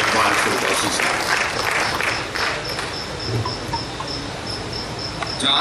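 Audience applause greets poet Iqbal Firdausi as he is called to the microphone at a humorous shayari recitation, steady loud clapping mixed with a chirping, cricket-like tone and faint talk through the crowd.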